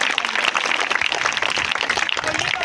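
Audience clapping at a magic show, dense and steady throughout, a loud continuous wash of hands with no clear pauses.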